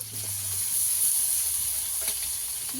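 Ginger paste and chopped tomato sizzling in a frying pan, a steady close hiss with faint stirring scrapes and a low hum underneath, continuous throughout with no talking.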